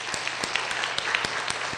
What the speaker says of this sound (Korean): 다 같이 한번 환영의 박수 하겠습니다